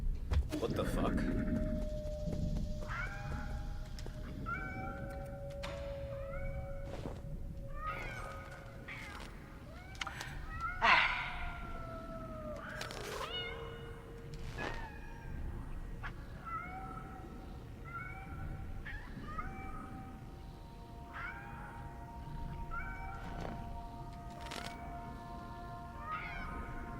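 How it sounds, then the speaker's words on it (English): Cats meowing repeatedly in the video game Nine Sols, a series of distinct mews and longer caterwauling calls spread across the scene, with a voice talking over parts of it. "actual cats?"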